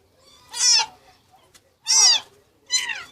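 Newborn kittens, two or three days old, give three thin, high-pitched meows, each about half a second long, spaced a second or so apart, close and clear with near silence between them.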